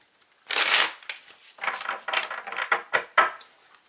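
Twin Flame Oracle cards by Mystic Moon shuffled by hand, a long riffling burst followed by a run of crisp, close flicks and slaps of card stock, fairly loud and with no voice over it.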